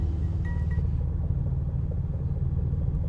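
Car engine idling in the Roblox game Greenville after a cold start, a steady low rumbling idle, close and even, with no voices.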